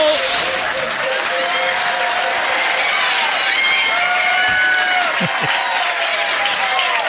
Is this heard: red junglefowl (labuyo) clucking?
no